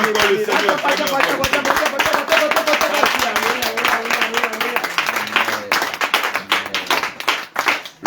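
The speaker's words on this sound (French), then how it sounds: "Acclamez encore le Seigneur." A standing church congregation claps loudly and continuously in an energetic acclamation for the Lord, with voices cheering and singing over the dense, sustained applause.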